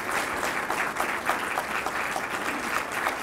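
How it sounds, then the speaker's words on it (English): A chamber of commerce audience applauds steadily at a mayor's annual address, a dense, even roar of many hands clapping throughout. "I think you ought to give her a round of applause for having done a good job"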